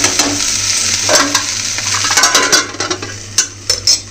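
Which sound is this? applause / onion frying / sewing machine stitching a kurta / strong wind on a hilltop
onion frying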